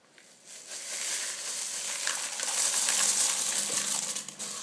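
Cornflakes stirred a little at a time into a melted chocolate mixture in a mixing bowl, a continuous dry crunching and rustling that grows slightly louder, with no talking.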